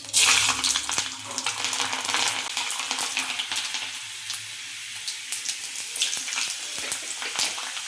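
Mustard seeds, cumin and whole garlic crackle and sizzle in hot oil for tempering, a dense, hissing spatter with sharp pops, loudest at the start and continuing steadily throughout.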